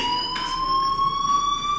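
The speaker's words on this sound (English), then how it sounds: "Hey, do you hear that fire alarm?" School fire alarm in the Life is Strange game, a loud, steady electronic tone holding one pitch with bright harmonics, continuous and close, with no talk.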